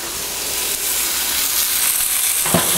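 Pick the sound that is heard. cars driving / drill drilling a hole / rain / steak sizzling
steak sizzling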